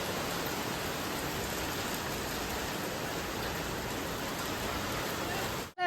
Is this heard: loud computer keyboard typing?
no